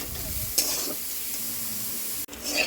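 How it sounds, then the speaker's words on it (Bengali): Steady sizzling of carrots and potatoes frying in a pan, with a few scraping stirs and a brief clatter near the end. "এবার গাজরটাও হালকা একটু ভেজে নেব"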